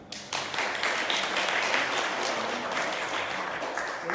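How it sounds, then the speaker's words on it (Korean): A church congregation at a Sunday service of a Korean church in Durham breaks into applause in welcome, a sustained burst of clapping that holds steady for several seconds. "박수로 환영해 주십니다"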